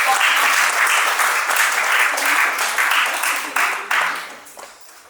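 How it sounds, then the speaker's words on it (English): An audience applauds at a Rotary Club interview-skills event held at a business school, steady dense clapping filling the room for about five seconds before tapering slightly toward the end. "Please give a clap"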